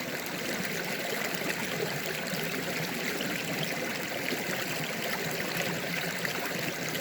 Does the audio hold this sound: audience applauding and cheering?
no